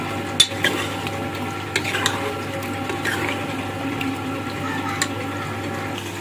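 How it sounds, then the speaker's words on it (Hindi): Cut potatoes and mutton frying together in a pot, making a low steady sizzle with occasional soft stirring knocks and scrapes, close by and with no talk. "साथ ही इसको हम भून लेंगे इन मटन के साथ ही आलूओं को भी।"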